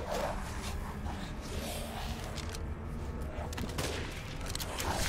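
Rapid bursts of gunfire in the horror video game Resident Evil Village, dense overlapping shots and impacts at loud, steady level without pause.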